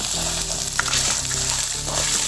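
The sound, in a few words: sautéing tomato, tamarind and onion in a pan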